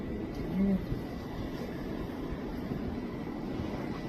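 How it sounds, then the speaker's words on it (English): Helicopters fly overhead in an outdoor night sky, giving a steady, distant rotor and engine drone that stays level throughout. "And you can hear the helicopters, right?"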